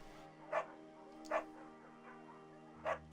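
Bucket, a beagle in the game Firewatch, barks three short times at roughly even gaps, fairly close, over a steady low musical drone.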